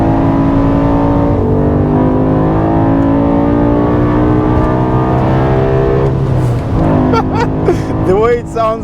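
A BMW E60 M5's engine and exhaust drone in a sustained, loud tone that builds and shifts pitch, then wavers toward the end, where a voice briefly talks over the sound.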